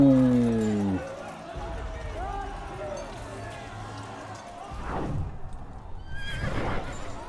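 In the Assassin's Creed video game, a horse gives a loud, close whinny at the start, then quieter hoofbeats and faint crowd murmur follow.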